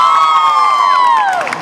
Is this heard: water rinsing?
no